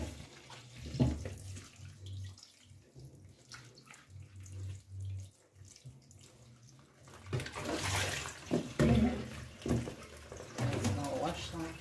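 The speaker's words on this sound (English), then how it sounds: "I'm now gonna wash off the shrimp from the lime juice and the vinegar." Shrimp being washed under a running kitchen tap, with faint water splashing and dripping, louder after the midpoint, while a person talks over it.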